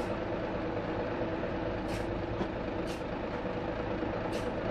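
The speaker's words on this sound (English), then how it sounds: "Now we'll be really needing to feather the brakes at this point." A heavy truck (lorry) descending a hill in the driving game BeamNG, with a steady loud engine drone and brief hissing bursts from the air brakes as they are feathered.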